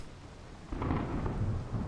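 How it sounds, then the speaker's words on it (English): Rain and rumbling thunder in the Final Fantasy XVI video game, set in a city; a low rolling rumble swells louder about halfway through over steady rain noise, with no talk. "It's very rainy in Twinside."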